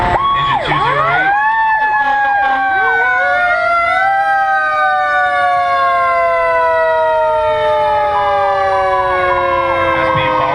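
Pierce fire engines in a parade, including a 2011 Pierce Aero XT, sound a loud wailing siren that rises and falls in long sweeping tones, with several overlapping sirens layered together and sustained for the whole stretch.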